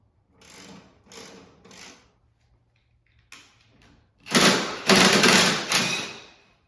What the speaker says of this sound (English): I'm using a 3/8 socket. Loosen all these up.